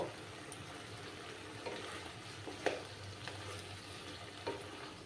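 Ginger and spice paste for a mutton curry fries in a pan with a soft, steady sizzle, broken by a few faint scraping stirs; quiet and close, with no voices.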